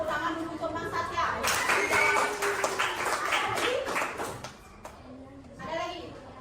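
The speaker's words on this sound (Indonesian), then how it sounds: "Tepuk tangan dulu untuk Mang Satya." A classroom of students applauding a classmate, a burst of scattered clapping that rises and fades within a few seconds while children and a teacher talk over it.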